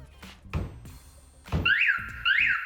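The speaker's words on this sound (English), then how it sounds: "shock on the side, bit harder, it'll trigger the full alarm" Two dull thumps strike the side of a vehicle fitted with a StarLine S-Series car alarm, then the siren starts up with repeated rising and falling wails, loud and close.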